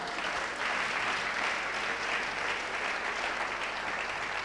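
A church congregation claps loudly and continuously, a dense unbroken wash of applause lasting the whole stretch, with no voices standing out above it.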